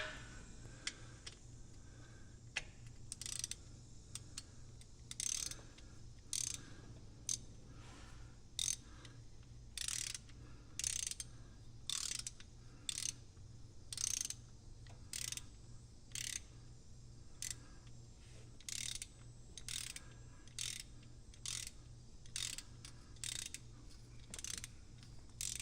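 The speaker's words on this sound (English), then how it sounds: "put a ratchet on there, we'll tighten her up" A ratchet tightens a bolt on a Trail Rider 570 in a quiet workshop, a series of faint, crisp clicking bursts in an uneven rhythm over low background hum.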